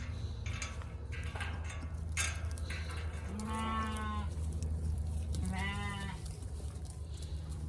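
Australian White sheep in a sorting alley give two clear, wavering bleats close by, over a steady low rumble of farm background noise.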